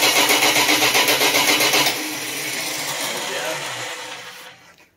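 Car engine cranking with a rapid, loud rhythmic starter chug, then catching and running rough for a few seconds before cutting out, close up.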